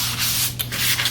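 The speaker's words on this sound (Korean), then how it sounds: "일단 MDF 먼저 밀어볼 건데요" Cloth-backed sandpaper rubs back and forth across an MDF board, loud close-up scratchy strokes in a quick rhythm with a brief pause midway, heard alone without talk.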